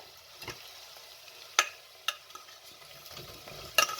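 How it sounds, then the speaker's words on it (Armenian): Potatoes stirred while frying in a pan, with a soft steady sizzle and several sharp scraping clicks from the utensil, fairly close and with no talking. "Հիմա ավելացնում ենք կարտոֆիլը"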